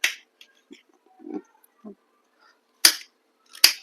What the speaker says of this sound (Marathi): सगळ्यात आधी आपण हा भोपळा कट करून घेऊया